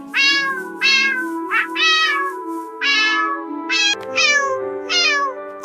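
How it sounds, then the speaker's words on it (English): A cartoon stray cat meowing plaintively, about seven drawn-out, rising and falling meows in a row, close and clear with short pauses between them. "A stray cat is trapped."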